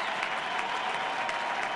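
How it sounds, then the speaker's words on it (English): A huge crowd at Busch Stadium gives a standing ovation to pitcher Chris Carpenter during World Series Game Seven, a steady, even roar of clapping heard at a slight distance over a radio broadcast. "a huge crowd at Busch Stadium responding to Chris Carpenter with a standing ovation"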